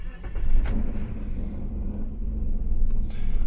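A 1998 Suzuki Grand Vitara with a 2.5 V6 engine cranks and catches, rumbling up quickly before settling into a steady low idle close by.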